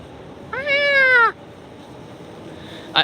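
A cat on a rooftop in Akihabara, Tokyo, lets out a single drawn-out meow of nearly a second, clear and fairly close, followed by quiet street ambience and a brief faint sound near the end.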